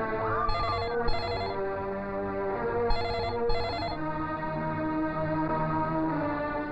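A mobile phone ringtone chirps in two pairs of short, bright electronic bursts over steady background music in a Hindi film scene.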